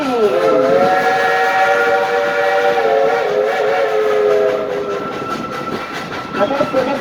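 Steam locomotive Engine 192, Klondike Katie, once of Skagway, Alaska, now running in Pigeon Forge, sounds a loud, sustained chime whistle that pitches down at the start and then holds steady over the chuffing, rolling train before trailing off.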